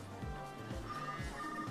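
A phone rings in the video game Tokyo Mirage Sessions #FE, a steady electronic ring pulsing in a regular rhythm of short bursts, clear and continuous throughout.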